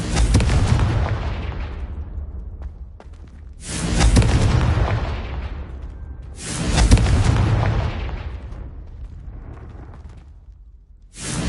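Three heavy explosion blasts from a fire-blasting Confringo spell in a PS4 game, each a deep, booming impact with a long rumbling decay, spaced a few seconds apart and loud up close.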